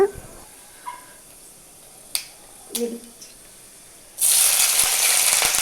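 Mustard seeds dropped into hot oil: a few sparse, sharp pops and clicks, then a sudden loud burst of dense, crackling sizzle that runs to the end.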